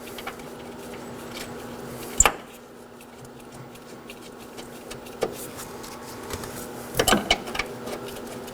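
Engine mount bolts on a 2013-2019 Nissan Sentra 1.8L L4 are snugged into the chassis, with scattered metallic clicks and clanks of a wrench and a few sharper knocks against a quiet, steady background hum.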